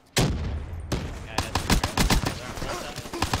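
Rapid bursts of gunfire ring out in an online shooter match, with rattling automatic fire and sharp repeated shots in close succession and a brief lull in between. The firing continues steadily and loudly throughout.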